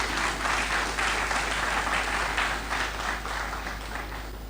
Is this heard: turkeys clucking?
no